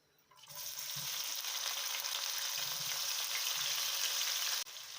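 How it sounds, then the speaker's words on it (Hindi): Sliced medium onion hitting hot oil in a pan for dhaba-style daal mash, bursting into a loud, steady, close sizzle that holds for several seconds and dips slightly at the end, with no voices. "ऑयल अच्छा गर्म हो चुका है। अब हम इसके अंदर प्याज डाल देंगे।"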